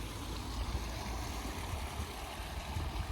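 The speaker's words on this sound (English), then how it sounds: "You can hear the water here." Steady rushing water at St John's Lock on the River Thames, a continuous low roar with broadband wash, fairly close and unbroken for the whole stretch.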